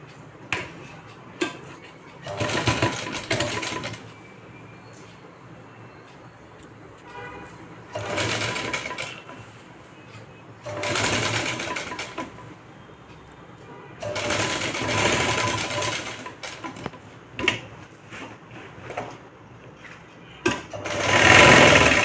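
A sewing machine stitches a blouse sleeve from bottom to top in several loud bursts of rapid whirring, with short quiet gaps between runs and a final burst at the end.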